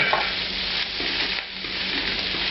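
Shrimp sizzle on a very hot cast iron grill, a continuous, even hiss of searing at close range with light crackles and no talk.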